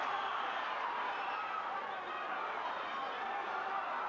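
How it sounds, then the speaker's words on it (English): A boxing crowd at a WBU lightweight title fight in a South African casino arena, a steady roar of voices and chatter rising after a landed punch, dense and continuous throughout. "Scheepers does get through a shot, and that brings the crowd alive"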